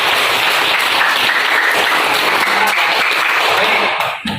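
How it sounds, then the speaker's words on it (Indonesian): A class on religious tolerance applauds together, a dense, loud, steady wash of clapping from many hands that holds evenly for about four seconds before cutting off abruptly. "Iya, kasih tepuk tangan dulu Pak"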